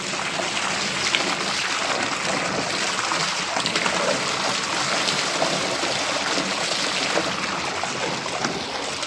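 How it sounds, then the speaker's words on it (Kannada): Spring water runs down from a hillside near Sandur, Karnataka, making a continuous close rush and trickle that holds an even loudness the whole time. "ಅದು ನೀರು ಗುಡ್ಡದ ಮೇಲಿಂದ ಬರ್ತಾ ಇರುತ್ತೆ ಯಾವಾಗಲೂ"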